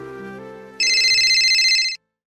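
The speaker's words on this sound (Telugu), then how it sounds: "అవురా ఏదో ఫోన్ వస్తాండి." A mobile phone rings with a bright electronic ringtone, loud and close, cutting off abruptly after about a second over fading background music.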